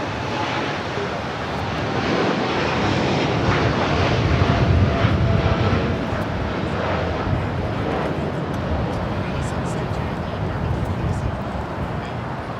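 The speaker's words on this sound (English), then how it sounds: "This is DHL, operated by Polar Air Cargo 789, taking off to Seoul on a 747-8 freighter" A DHL Boeing 747-8 freighter operated by Polar Air Cargo takes off at LAX, a broad, sustained jet roar swelling and holding at a distance, with faint voices audible underneath.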